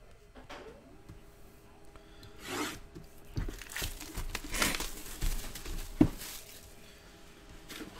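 Packs of basketball trading cards being ripped open: soft rubbing, crinkling foil and tearing wrapper sounds at close range, with a few sharper rips and a quiet background hum.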